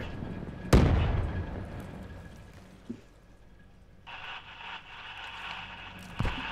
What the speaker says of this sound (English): They're throwing grenades over here.